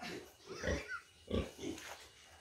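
A pig squeals loudly and close up, three harsh bursts in quick succession, during deworming on a farm.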